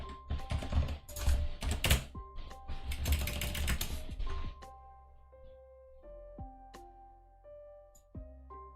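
Typing on a computer keyboard: an initial burst of rapid, loud clattering keystrokes for a few seconds, then quieter scattered key taps with electronic tones in the background.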